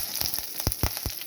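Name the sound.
curry leaves sizzling in hot oil, Tamil sour mango rice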